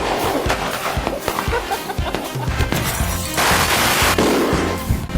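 Rapid bursts of sharp popping bangs from firecrackers crackle in quick succession, loud and close, with a voice briefly audible amid the noise.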